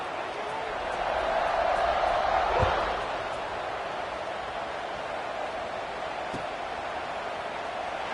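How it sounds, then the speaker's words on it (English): A stadium crowd in an American college football video game produces a continuous wash of crowd noise, swelling briefly early on before settling into a steady roar, while commentary voices talk over it. "this crowd is buzzing after that last score"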